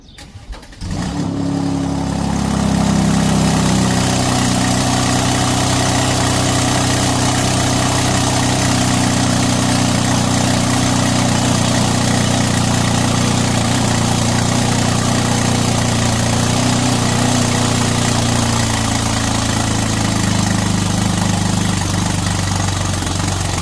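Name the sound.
Mercedes-AMG GLC 43 engine idling with exhaust leak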